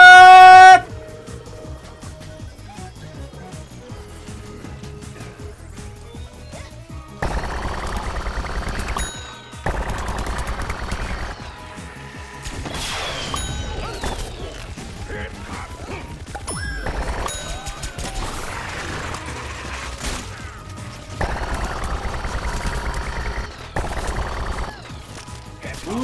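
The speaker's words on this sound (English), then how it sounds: "Who the hell is shooting at me?" Bursts of game gunfire in Plants vs. Zombies Garden Warfare 2: a loud opening hit, then long stretches of rapid automatic shooting broken by brief pauses, layered with crashes, impacts and game effects.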